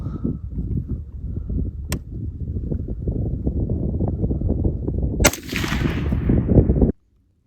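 Suppressed AR-15 rifle firing, a run of sharp rapid cracks with a louder report near the end, cutting off abruptly into silence.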